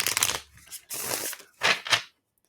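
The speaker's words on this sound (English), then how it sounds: "Give it a few shuffles." A tarot deck is shuffled in bursts, three or four riffling, rustling passes of the cards close up with short pauses between, then it falls quiet.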